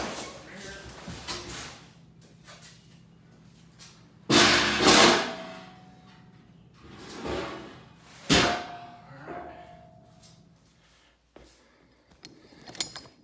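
A heavy Smittybilt M1 bumper is set down with two loud, close thuds a few seconds apart, amid quieter handling clatter and light rustling.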